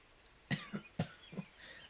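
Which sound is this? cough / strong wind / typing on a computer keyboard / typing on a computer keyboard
cough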